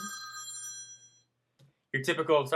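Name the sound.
BlackBerry Storm phone ringing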